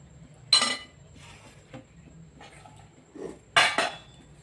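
Food being served from a cooking pot into an offering bowl for a vegetable sabji meal, heard as two distinct clinks of utensil against metal dishware with quieter scraping between them, close and alone without talk.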